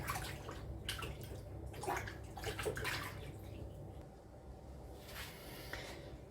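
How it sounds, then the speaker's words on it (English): Hands being washed under running tap water in a home kitchen, a soft continuous splashing with small surges and drips, fairly quiet and without speech. "I'll wash my hands."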